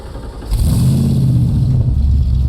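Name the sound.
1965 Shelby Cobra replica engine starting up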